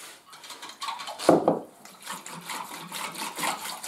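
Fresh yeast, 12 grams, whisked quickly in a bowl while making ciabatta dough: a burst of rapid, close clinking and scraping strokes, with a sharper knock near the middle.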